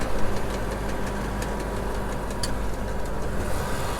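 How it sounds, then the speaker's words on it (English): A combine harvester's elevator running during a double-crop soybean harvest, a steady mechanical drone with faint rapid ticking, close and continuous, with no talking. "I hear the elevator running."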